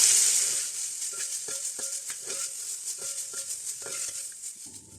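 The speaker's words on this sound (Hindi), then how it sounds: "गाजर को इसमें तकरीबन 2 मिनट तक इसको सौटे करेंगे।" Carrots sizzle steadily in a hot oiled pan while being sautéed for chicken chow mein. A spatula taps and scrapes against the pan at a loose, irregular rhythm, and the sizzle eases slightly toward the end.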